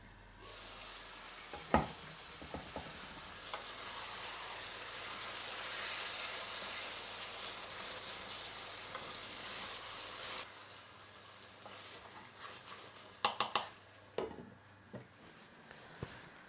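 Tomatoes simmer with a soft, steady sizzle in a lidded pot over medium heat for a one-pot British Indian restaurant beef madras. The quiet cooking noise is broken by a few scattered clinks and knocks of utensils and the lid.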